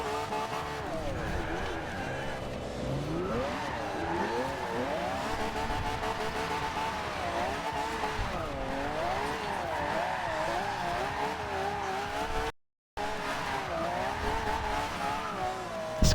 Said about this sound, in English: This car is just an amazing drift car.